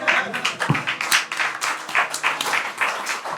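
A live studio audience at a comedy podcast taping claps in a steady, pulsing burst, close and fairly loud, with a few voices faintly mixed in.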